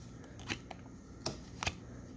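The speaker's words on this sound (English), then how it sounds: "I'm just going to shuffle these and then we'll go through them." A few soft, brief card riffles and taps as a deck of Lenormand fortune-telling cards is shuffled by hand, quiet and close.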